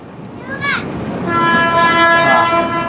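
A train at a railway station sounds a loud, sustained horn that swells after a brief rising tone, close by and over a low background rumble, with a voice faintly underneath.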